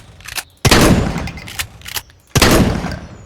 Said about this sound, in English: if I shoot, you can hear how my character cocks the shotgun back after every shot